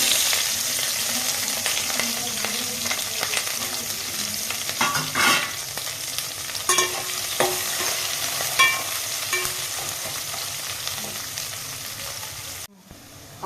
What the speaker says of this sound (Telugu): జస్ట్ ఒక 2 సెకండ్స్ అలా ఆయిల్లో ఫ్రై అయిన తర్వాత చూడండి, ఆనియన్స్, క్యారెట్, గ్రీన్ చిల్లీ